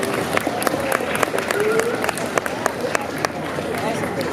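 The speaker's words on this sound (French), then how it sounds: "On peut applaudir encore une fois ce cosplayer" Crowd at a cosplay day out-of-competition parade applauds a cosplayer, loud dense clapping with sharp individual claps, a brief whistle and murmuring voices mixed in.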